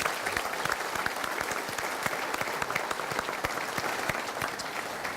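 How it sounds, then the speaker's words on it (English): Breakfast attendees at a business event applaud a panel with sustained, full-room clapping, individual claps popping out of a thick, continuous wash of hands. "Let's please have a round of applause for our panel."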